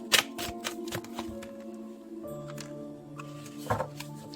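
Tarot cards being shuffled by hand, with soft papery riffles and slaps in short bursts over a steady background hum, close and clear with no talking.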